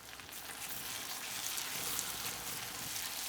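Garlic, green chilli and dried red chilli paste frying with onions in a pan, a steady broadband sizzle and crackle throughout, fairly quiet and continuous with no talking.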